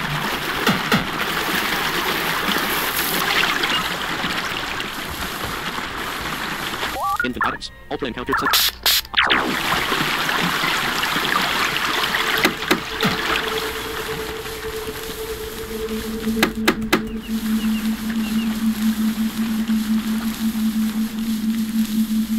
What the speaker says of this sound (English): The picturesque waterfall seems almost too perfect.